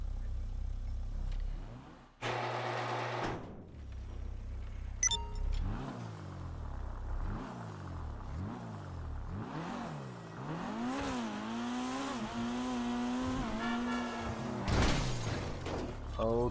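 Vapid Flash GT sports car in GTA V, its engine revving up and down through repeated gear changes as it accelerates, a steady in-game motor drone with rising and falling pitch throughout.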